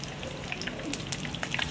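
Curry leaves drop into hot oil and crackle with a fine, even hiss of frying, speckled with small pops, fairly quiet and steady.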